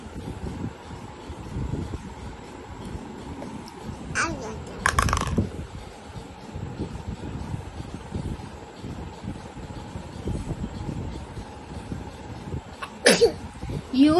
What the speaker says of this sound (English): You are sneezing.